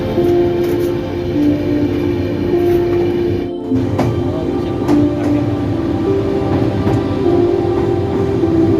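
A train runs steadily through the Sevoke forest in North Bengal, giving a continuous, loud rumble with a sustained droning hum that lasts throughout and no voices.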